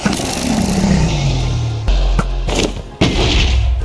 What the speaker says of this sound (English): Now I cannot get hit by those stupid fireballs.